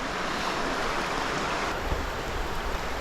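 Creek water flowing by an Appalachian campsite in the morning, a constant loud rushing wash with slight wind buffeting on the microphone and no talking.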